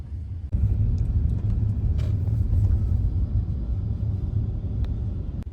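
A limousine carries passengers between airport terminals, giving a steady, close low road rumble from inside the cabin with a few faint clicks and no talking.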